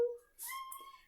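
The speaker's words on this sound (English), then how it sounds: "My cat Char decided she wanted to come in." A pet cat meows near and fairly softly in a room, one drawn-out tonal call rising into a brighter, wavering cry.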